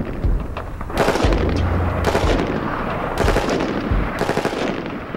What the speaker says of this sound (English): Can the M14 pass the helmet test in full automatic?